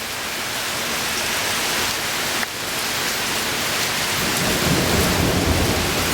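Heavy thunderstorm with steady, dense rain and rolling thunder that swells louder toward the end, a continuous roar with no voices.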